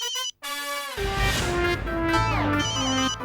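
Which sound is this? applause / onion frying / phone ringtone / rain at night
phone ringtone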